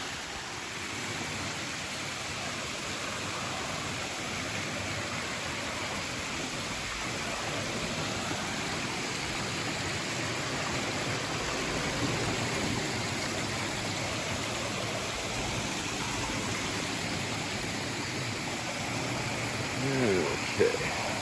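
A mountain stream on Giant Mountain in the Adirondacks flows in a steady, broad rushing hiss. It is close and constant, with a brief knock near the end and a voice talking at times.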